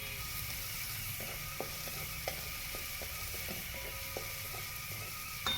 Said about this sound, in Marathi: त्यानंतर त्यामध्ये कांदा घालायचा. कांद्याला सोनेरी रंग येईपर्यंत हलवून घ्यायचे